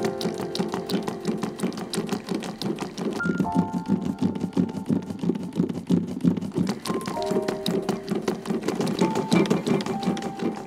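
A 1950s chainstitch sewing machine stitching, with a fast, steady mechanical chatter of rapid regular clicks, loud and close, running continuously with no talk.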